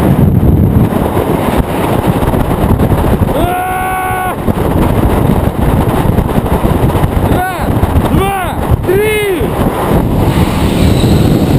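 Heavy wind buffets a GoPro microphone during a low base jump from a 104 m object, a constant loud roar with voices shouting over it at intervals.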